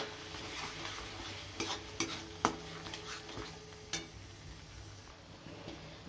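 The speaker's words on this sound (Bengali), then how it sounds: "এবার মশলাটা খুব ভালো করে কষিয়ে নেব" Spice masala frying in a pan with a soft, continuous sizzle, while a spoon stirs it in repeated scrapes and sharp metallic clicks against the pan, close up.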